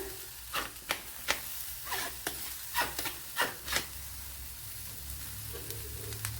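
Cooked horse gram being stirred into spices in a pan makes a run of close scraping, clattering stirs in uneven bursts over a soft sizzle, which thins out toward the end; no voices.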